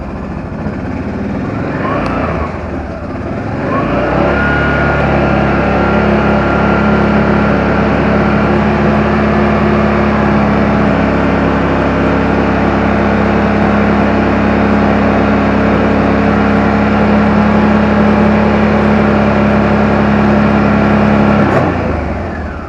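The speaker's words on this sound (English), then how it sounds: "it takes a few minutes to heat up because you're heating the engine up" A car engine idles steadily while warming up from cold, a loud even hum with a low drone that holds for about twenty seconds, starting and ending with brief clunks.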